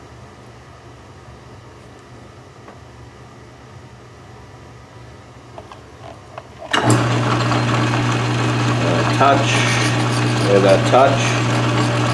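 Metal lathe starting up partway through, a steady loud hum with a constant motor tone and machining noise replacing the quiet shop room before it, close by, with a brief spoken word.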